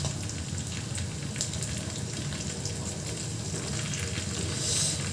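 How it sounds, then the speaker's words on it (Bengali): Onions fry together with garam masala, cinnamon, cardamom and bay leaf, giving a steady dense sizzle and crackle that holds evenly throughout and swells slightly at the end. "পেঁয়াজের সাথে আমি গরম মশলা, দারচিনি, এলাচ, তেজপাতা সব কিছু ভেজে নিচ্ছি একসাথে।"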